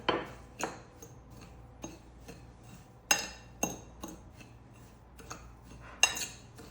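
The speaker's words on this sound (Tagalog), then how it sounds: "ilagay ko na dito sa plate itong breadcrumbs at i-add ko na itong garlic powder at itong paprika powder. Mimix ko siya." Breadcrumbs are mixed with garlic powder and paprika powder on a plate, producing a series of sharp utensil scrapes and clinks against the dish at irregular intervals, close and fairly quiet.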